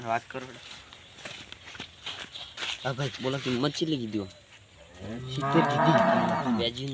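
A cow moos several times nearby, each low call rising and falling, amid footsteps and shuffling, with a louder, broader sound near the end.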